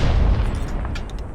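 A heavy turreted cannon in ARMA 3 Prairie Fire, a Vietnam War setting, fires with a deep booming blast whose low rumble rolls out and fades, followed by a few faint sharp pops in the distance.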